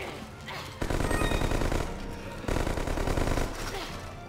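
Jill Valentine fires her guns in the Resident Evil 5 video game: dense, loud bursts of rapid gunfire come in two long stretches with brief gaps, and faint voices sit underneath.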